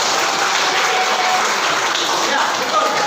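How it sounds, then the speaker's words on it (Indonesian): A classroom full of people breaks into dense, steady applause that holds at an even volume for about three seconds, close and loud, with no other sound standing out. "tepuk tangan"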